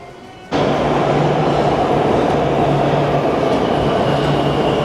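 Interior of a moving Tehran metro train, a loud steady roar of wheels and motors that starts abruptly and holds evenly, with faint rhythmic rail clicks beneath.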